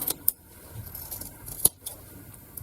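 Scissors snip loose threads off a pink quilt block, giving a few faint, sharp metallic clicks spread over a quiet background with no talking.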